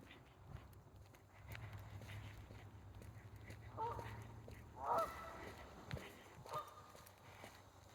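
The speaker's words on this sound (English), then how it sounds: "Bunch of geese making a big racket landing on the river." A flock of geese lands on a river while calling out, honks rising in a few loud clusters partway through amid distant outdoor ambience, with splashing and a low rumble underneath.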